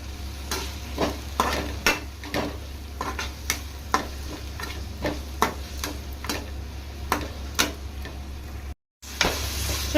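Tomatoes frying in a pan for ginger green chili chutney, with cumin added, stirred in a steady series of sharp scraping strokes over a continuous low sizzle and hum.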